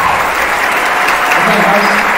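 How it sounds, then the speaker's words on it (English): Audience applause for students at a high school spring band concert, a steady wash of many hands clapping close and loud, with some voices underneath. "Please give those students a round of applause."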